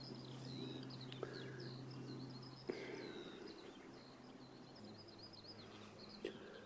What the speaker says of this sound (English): so I thought we'd just sit in silence and listen to the birds.